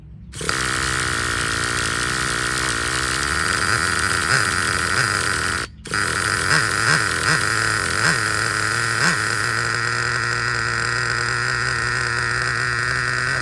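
Traxxas TRX 3.3 nitro RC engine with stock carburetor firing on its first start and settling into a loud, continuous buzzing idle, with a brief cutout midway and a few rhythmic revving pulses.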